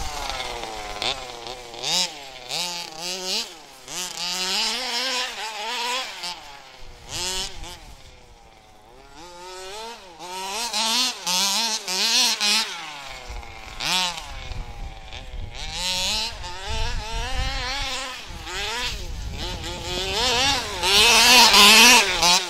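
A two-stroke engine vehicle rides along with a buzzing, rising and falling whine as the throttle is worked, shifting pitch repeatedly, loud and near with wind rush in places.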